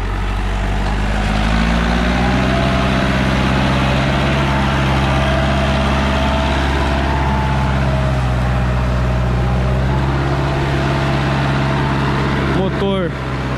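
Massey Ferguson 4275 tractor with Carraro front-wheel drive and a turbo-adapted 4.1-litre engine runs steadily while pulling a planter in a soybean field, a loud continuous low drone with someone speaking over it.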